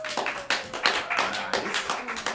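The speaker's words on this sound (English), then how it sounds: "Clap your hands if this is your first time to the Hideout Theater." Scattered hand clapping from a small theater audience at the Hideout Theater, uneven bursts of claps rising and falling across a couple of seconds, with a faint voice underneath.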